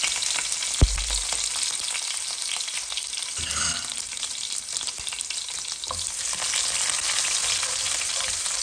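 Four or five garlic cloves dropped into overheated oil with cumin seeds: a brief thud, then a continuous close, hissing sizzle with faint stirring.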